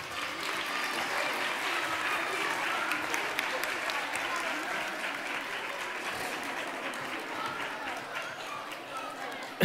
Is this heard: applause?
yes